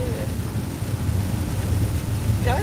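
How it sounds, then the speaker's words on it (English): Heavy rain drums on a car from inside the cabin, a dense, constant roar with low rumble and wind-like hiss that never lets up. "Yeah, it's raining harder and harder."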